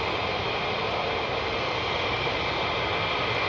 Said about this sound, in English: you'll see the KC-135s going up